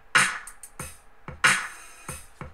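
A drum beat programmed in Reason plays back, punchy kick-like hits paired with bright snare or clap bursts and short ticks in a steady groove, clear and dry with no voices.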